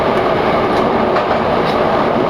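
A loud, constant roar of a London Underground Jubilee line train rushing through a tunnel between Wembley Park and Baker Street, heard from the cab, with faint rhythmic clatter beneath the dense rumble.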